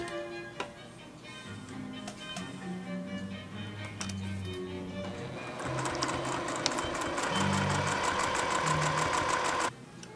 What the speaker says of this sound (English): It's really quite pleasant to stitch these without having to do a lot of marking